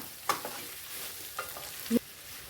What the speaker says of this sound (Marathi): फोडणीमध्ये आपला हा बटाटा जो घातला ना तो छान असा मिक्स करून घेऊया